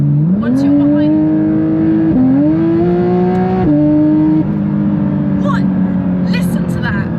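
Porsche 992 GT3 RS engine revving hard from inside the cabin, loud rising pitch sweeps with quick shift drops and a steady high-rpm drone, with a voice talking over it.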